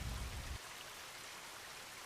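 Rain falling steadily at night, a soft, even hiss of drops, with a louder rumbling burst in the first half-second before settling to a faint continuous patter.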